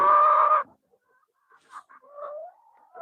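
A hen gives a short burst of clucking, followed by quieter, scattered clucks and a drawn-out chicken call nearby, on a desi poultry farm.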